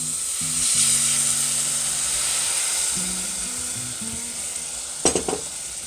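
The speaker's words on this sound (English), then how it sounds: "Because it will sizzle." A steady, loud sizzle and hiss of evaporated milk hitting a hot pan, with a low hum beneath and a brief scraping clatter near the end.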